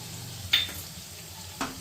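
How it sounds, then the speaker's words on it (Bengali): Ginger-garlic paste being stirred into a prawn curry with mustard and poppy-seed paste, a soft low sizzle with two brief scraping strokes of the spoon against the pan. "দেখুন আদা রসুনটাও আমি এটার সঙ্গে মিশিয়ে দিলাম।"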